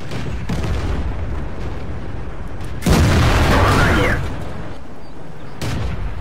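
Tank cannon fire in the tank battle game World of Tanks: a single heavy, booming blast with a rumbling tail stands out mid-clip above a steady bed of engine and battle noise.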